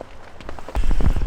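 Rain patters on a tent at a Yosemite campsite, a close, irregular drumming of drops that grows heavier and louder in the second half, with no voices.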